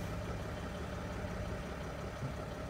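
2017 Jayco Melbourne motorhome's 3-liter diesel engine idling, a quiet, steady low rumble heard close by and alone.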